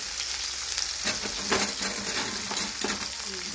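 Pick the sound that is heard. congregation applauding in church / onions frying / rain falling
onions frying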